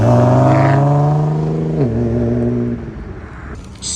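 A Nissan GT-R revs hard and pulls away at a street car meet, a loud close engine roar climbing then dropping as it shifts and fades into the distance; no talking.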